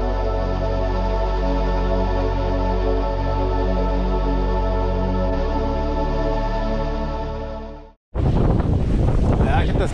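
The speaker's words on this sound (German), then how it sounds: "Ich habe hier ganz schön Wind" Wind on a sailboat during an autumn trip from Cuxhaven to Hamburg: a steady droning tone gives way abruptly to loud, roaring wind buffeting the microphone.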